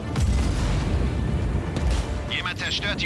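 A deep rumbling explosion of fuel depots in the video game Just Cause 4 roars continuously at close range, with bright crackling bursts near the end.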